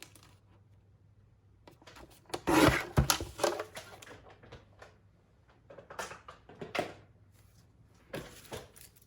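Paper trimmer or blade cutting 12-inch paper sheets to 5 3/8 inches, heard as close, dry rasping strokes in several short bursts separated by quiet pauses, no talking.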